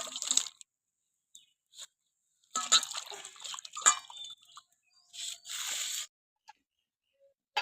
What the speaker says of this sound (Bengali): আলুটা এবার আমি জলে দিয়ে দেবো